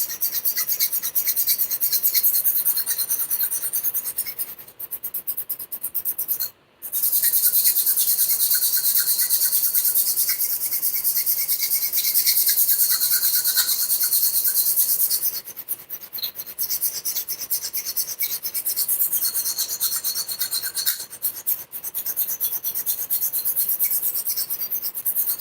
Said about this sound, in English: we're gonna file this down